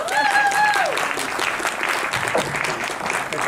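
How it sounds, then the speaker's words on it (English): Audience applause as panelists walk up onto the stage at a recruiters' panel event, a steady patter of clapping with a voice talking briefly over the start. "It's okay if we clap for them while they're getting up there."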